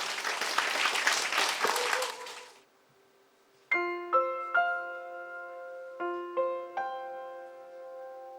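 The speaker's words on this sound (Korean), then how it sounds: "양일모 교수님을 큰 박수로 맞이해 주시기 바랍니다." Applause from a concert audience welcoming a professor to the stage at a classical music benefit night, a dense burst fading out after about two seconds, then soft piano notes follow.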